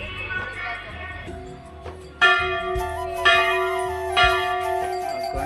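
Loud metallic bell strikes ring out at Siddhivinayak temple, three clear clangs spaced about a second apart, each leaving a long shimmering decay over faint background noise.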